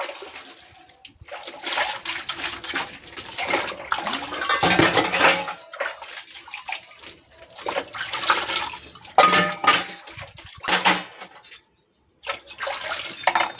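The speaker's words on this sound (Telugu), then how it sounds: "ఈ గిన్నెలు సింక్లో పడ్డప్పటి నుంచి వీటిని తోమి కడిగి శుభ్రంగా ఇలా గిన్నెల స్టాండ్లు వేసే వరకు" Dishes clatter and clink in a sink while water runs in bursts, with scrubbing and rinsing sounds coming close and irregular, and no one speaking.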